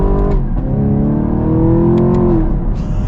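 A Chevy Camaro SS 1LE's engine accelerates, a loud, close roar climbing steadily in pitch over a few seconds, with no talking.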